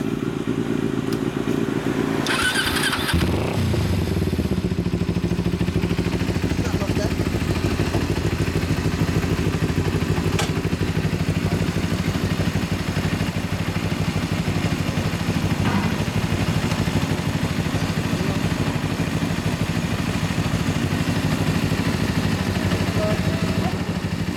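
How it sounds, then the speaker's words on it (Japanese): A Kawasaki ZZR250 (EX250H) motorcycle engine catches after a short clattering start, then idles with a steady low rumble close by. "いやエンジンかけて"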